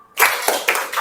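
A classroom of students claps together in a rhythmic routine, a few loud, close group claps in quick succession after a brief pause.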